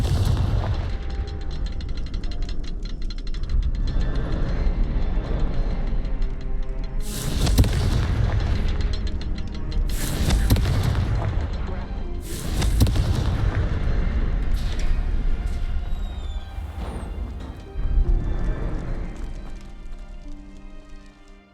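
Confringo fire spell explosions in the game Hogwarts Legacy: four or five heavy booms burst one after another over a low, continuous game background, each blast loud and close.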